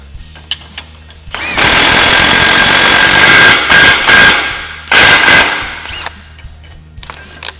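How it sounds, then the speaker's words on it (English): An impact wrench with a socket drives a wheel bearing into a Polaris RZR UTV hub, loud rapid hammering bursts in two main runs separated by short pauses, with scattered metallic clicks around them. "we're going to go ahead and get our impact and our sock and our wrench"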